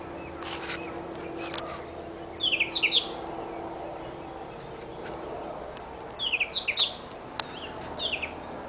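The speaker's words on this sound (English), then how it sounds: "A bit of bird life twittering in the background there." Small birds twitter and chirp in two brief bursts over quiet background at a riverside wild camp in woodland, fairly distant and soft with no talk.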